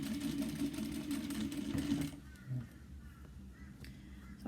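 A sewing machine stitches handbag fabric, running with a steady, close mechanical whir for about two seconds and then stopping, leaving faint handling noises.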